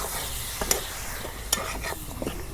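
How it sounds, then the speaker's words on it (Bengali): Beef pieces fry in plain oil with spices in a pan, a soft steady sizzle with a few scraping stirs of a spoon, close and fairly quiet. "পেঁয়াজ ছাড়া আমি মাংসগুলো কষে নেব খালি তেল দিয়ে।"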